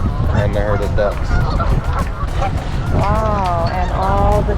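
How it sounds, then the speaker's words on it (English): A flock of ducks clusters on the water at Niagara Falls, honking and squawking continuously at close range over a low watery rumble, while a person talks among the calls. "And the herd of ducks."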